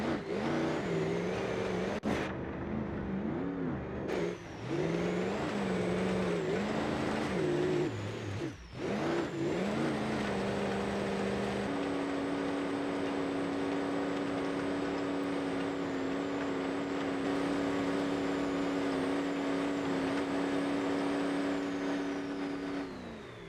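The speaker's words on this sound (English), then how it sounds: "the car demonstrates its surprising ability to climb nearly vertical hills" Simulated car engine in BeamNG.drive labouring up a steep dirt hill, a loud continuous mid-pitched drone with revs rising and dipping, briefly cutting out, then settling into a steady high-strained hum.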